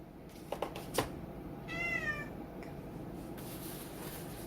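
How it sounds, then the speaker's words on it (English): A male house cat gives one clear, rising-and-falling meow mid-clip, moderately near in a quiet room, with a few soft knocks beforehand. "You hear my boy cat."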